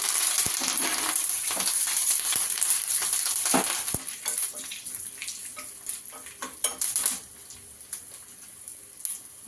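Garlic, dried red chilies and curry leaves crackling in hot oil for a tempering, with scattered sharp pops and sizzles plus occasional clinks of a spoon against the pan, fading somewhat toward the end.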